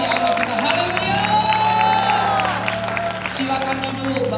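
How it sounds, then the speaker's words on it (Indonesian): A church congregation at a senior community worship service claps and cheers together, a loud, sustained wash of applause with shouts mixed in and musical tones underneath throughout. "Kasih tepuk tangan yang dahsyat bagi Allah kita."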